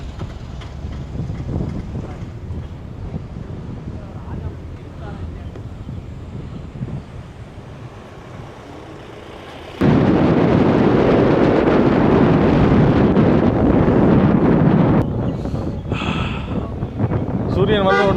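Cold wind blowing across a hillside in Munnar, Kerala, rushing and buffeting the microphone, growing noticeably louder and steadier partway through, with people talking over it.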